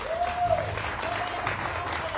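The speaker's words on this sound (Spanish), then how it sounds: "Dale un aplauso al Señor." Church congregation applauding for the Lord, steady close clapping from many hands, with a singing or calling voice heard briefly over it.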